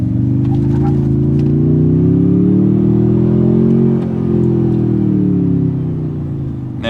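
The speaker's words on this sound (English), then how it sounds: "that TRD tuned exhaust. It is piped in, but it does sound pretty nice." A Toyota Tundra TRD Pro with a TRD tuned exhaust accelerates hard, its deep engine note climbing and swelling steadily as the revs build, loud and close, then easing slightly near the end, with no talking.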